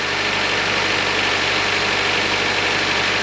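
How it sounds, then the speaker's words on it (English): A car engine idles steadily during a battery and charging-system test, a constant close mechanical hum with broadband noise and no talk over it. "Okay, so the engine is running"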